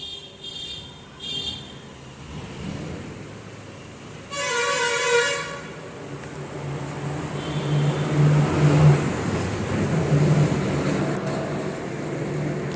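A bus passes near a garden and sounds its horn in a short, loud blast, with road rumble building and lingering afterward.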